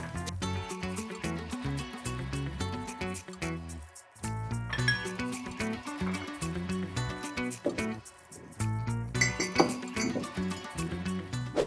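Repeated bright metallic clinks and clatter of cutlery being handled in a kitchen drawer, busy and irregular with brief pauses, close by.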